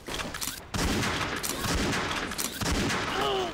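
Sniper rifle fire in the online shooter XSHOT, rapid loud gunshots cracking one after another in a dense burst, with other in-game effects layered underneath.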